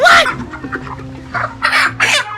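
Chickens cluck repeatedly at close range on a poultry farm, several short loud bursts of calls in an uneven rhythm, with no talk.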